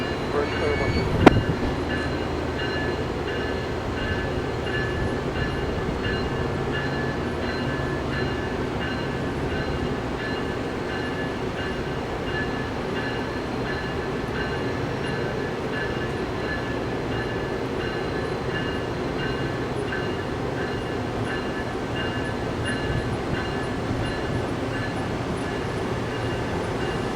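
Amtrak 319, a passenger train, pulls out at Bloomington/Normal with a steady low rumble of rolling wheels and rail noise. The sound carries at moderate distance, with a single sharp clank near the start and faint chatter underneath.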